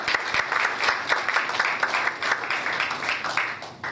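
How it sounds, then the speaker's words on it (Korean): A seated audience at a 2013 Songdo, Incheon briefing for Korean-American community housing welcomes an economic zone official with a brief, lively burst of close clapping that tapers slightly by the end. "박수로 맞이해 주십시오."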